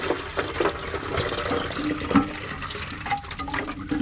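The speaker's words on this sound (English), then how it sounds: "So that's dropping all the water from the tank." Water rushes out of a toilet tank with a gurgling flush, fairly close and steady, with a few small clunks and knocks along the way, as the tank is emptied for a fill valve replacement.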